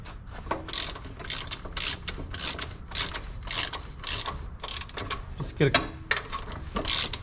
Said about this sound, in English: Just get a couple turns on this.